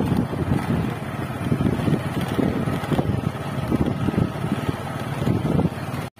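A motorcycle rides along a rural village road with a steady engine drone and heavy wind buffeting on the microphone for about six seconds, ending in a sudden cutoff.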